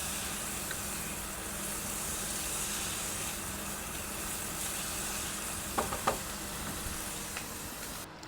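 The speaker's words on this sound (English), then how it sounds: "And then we're going to cook the bacon with the sprouts." Bacon and Brussels sprouts sautéing in a pan for a Christmas dinner, a steady close hiss of frying fat throughout, with a couple of brief clinks near the end.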